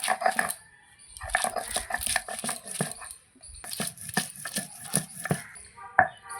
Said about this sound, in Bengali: আদা বেটে নিয়েছি, এবার আদার সঙ্গে রসুনও বেটে নেবো।